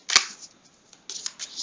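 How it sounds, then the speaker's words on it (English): Playing cards being shuffled during a tabletop game of Undaunted: Battle of Britain, a sharp riffle snap followed by a brief pause and a second quick run of flicking card edges, close and clear. "Now they will shuffle the cards."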